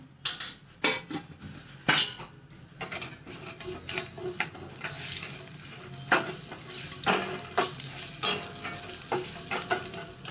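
Tempering of cumin, asafoetida and turmeric sizzles in hot oil for ridge gourd chutney, a steady close crackle broken by sharp clinks of a spoon against the pan, with no talking.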